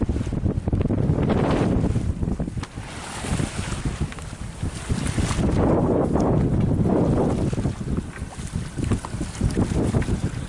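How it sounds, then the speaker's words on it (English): Wind blows hard across a sailboat off the Portuguese coast in fog, a constant loud roar of gusts buffeting the microphone, mixed with wash of the sea, no one talking. "Just look at the wind here. Yeah, we've got a bit of wind."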